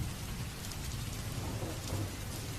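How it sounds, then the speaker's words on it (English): Heavy rain falls steadily at night in a foggy city, a dense, continuous hiss with a low rumble beneath it, unbroken and fairly loud, with no voices. "soon ending in a settled and heavy rain"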